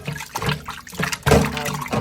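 Running water splashes and trickles over raw chicken being washed with salt in a kitchen, a steady wet pour with bursts of swishing as the meat is rubbed, fairly close.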